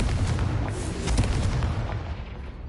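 Confringo fire blast spell cast in Hogwarts Legacy on PS5, a loud, sustained booming explosive roar with crackling bursts, heard alone without talk.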